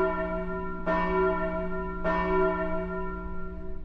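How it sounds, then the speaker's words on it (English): A church bell tolls at night in a ghost-themed video game, two loud, resonant strikes about a second apart, each ringing on with a long, humming decay. "Why would the bell ring so late at night?"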